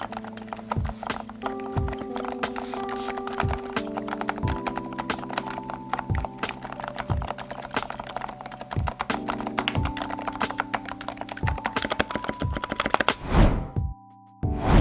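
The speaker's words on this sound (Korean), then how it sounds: "오늘 이렇게 키크론 K8 프로 저소음 적축 모델을 한번 간단하게 살펴보았습니다." Steady, rapid typing on a Keychron K8 Pro keyboard with silent red switches and an aluminum body, giving muted, dense keystrokes up close that end in a brief louder rustle.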